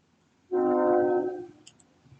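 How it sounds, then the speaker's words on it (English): A passing train sounds one sustained horn blast of about a second, loud and fairly near, then fades, with faint rumble around it. "As the train goes by, I will talk over it best I can."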